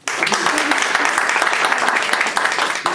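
Continuous applause and clapping from a group at a certificate presentation in a work club, dense and steady for the whole stretch, fading slightly at the very end.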